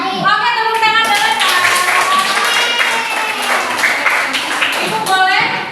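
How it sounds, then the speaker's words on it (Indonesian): Classroom of students clapping together on cue after a pupil answers a science question about plant roots, a dense burst of hand claps with children's voices and chatter mixed in, steady and loud throughout. "Oke, tepuk tangan dulu."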